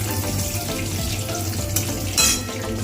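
Bay leaf and spices sizzle and crackle in hot oil, a close and steady frying hiss with a few sharper pops.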